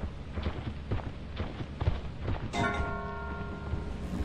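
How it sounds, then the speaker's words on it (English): Bell ringing in a video game with a ship setting; a resonant tone rings out partway through and sustains, following a run of soft thumping, footstep-like sounds, all at moderate volume. "Oh, the bell makes noise now."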